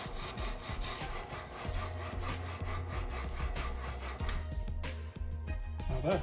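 A hand sanding machine for knifemaking grinds with a rough, rasping buzz, steady and close, with a low motor hum underneath that shifts partway through.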